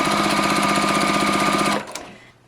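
A sewing machine stitches quilt pieces in a chain, a loud, close, rapid mechanical whir with a steady rhythmic needle beat that stops abruptly, leaving a faint clack.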